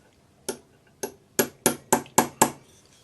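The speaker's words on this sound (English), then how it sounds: "I've got just a small, shiny punch, and I'm using a chasing hammer" Chasing hammer tapping a small shiny metal punch to set a 4mm bezel around a cabochon stone in a ring, seven sharp, bright metallic taps at a steady, quickening rhythm, close and clear against a quiet background.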